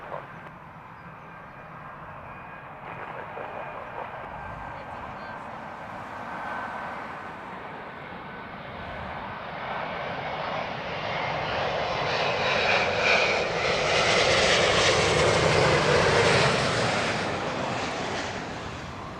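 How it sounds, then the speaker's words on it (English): A British Airways Boeing 777 jetliner at Heathrow swells from a distant whine into a loud, rushing engine roar that peaks near the end as it passes close, with no voices. "There we go, a very clean British Airways 777."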